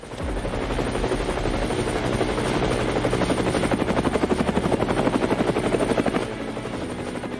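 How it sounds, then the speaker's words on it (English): A helicopter's rotor thumps in a rapid, steady pulse, growing louder and closer before easing slightly, with a broad engine roar beneath. "Helicopters, helicopters, helicopters."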